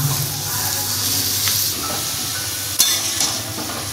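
Bottle gourd and prawns cook over low heat in a pan, giving a steady soft sizzle, while a spoon stirs with occasional scraping clinks and one sharper knock against the pan.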